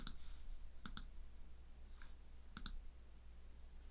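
Computer keyboard keys click in short sparse bursts, a few quick double taps and single presses spaced apart, faint and close in a quiet room.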